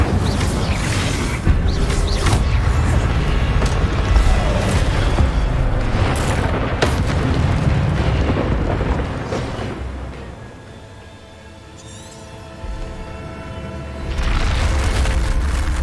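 A big fiery Incendio spell blast in Hogwarts Legacy, with loud booming, rumbling bursts that roar for several seconds, dip briefly, then surge again.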